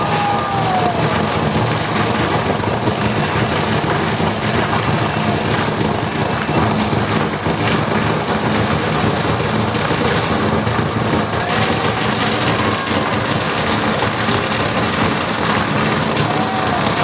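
Steady rain falls across an outdoor political rally in Mauritius, a loud, continuous broadband hiss with gusty wind buffeting the microphone and no clear voices throughout.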